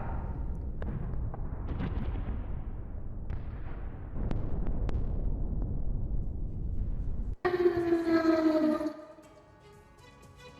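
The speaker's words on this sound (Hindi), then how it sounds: "पूरे यूक्रेन में हमले के अलर्ट वाले सायरन बजते सुनाई दिए।" An air raid alert siren wails across Ukraine, its strong tone sliding downward for about a second and a half before cutting off, after a long stretch of low, dull rumble.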